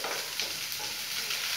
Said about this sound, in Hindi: एक दो मिनट थोड़ा सा मैं भून लेती हूँ, थोड़ा सा ट्रांसपेरेंट दिखने लगे